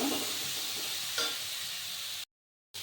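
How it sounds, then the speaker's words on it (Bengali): Spice paste of cumin, turmeric and chilli powder frying in a pan with potatoes, a soft continuous sizzle with a brief scrape of stirring, cut by a short gap near the end. "মশলাটা দিয়ে আমি সুন্দর করে ভেজে নেব"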